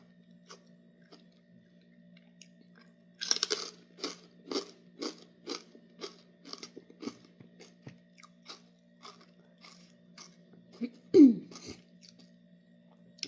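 Someone eats spicy Thai papaya salad (som tam) with shrimp, crunching and biting in a steady close rhythm, then lets out one sharp, loud cough near the end. No one speaks.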